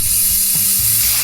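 A spray can is shaken hard and rattles continuously for about a second, a loud, close, gritty metallic clatter, with no voices.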